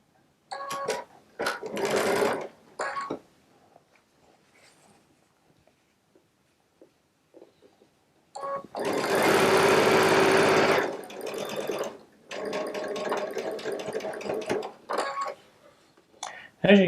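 A Baby Lock Solaris sewing machine pieces quilt blocks with a 1/4" piecing foot, running in short bursts and one longer steady run, with someone talking in between.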